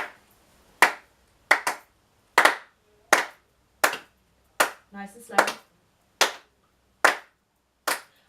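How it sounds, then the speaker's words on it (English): A single person claps crotchet beats slowly and evenly, about eleven sharp claps spaced under a second apart, with a brief spoken phrase in the middle. "So if you start clapping that,"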